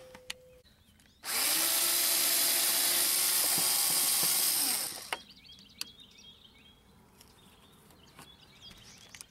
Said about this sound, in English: we'll take out the second screw, which is anchored right here.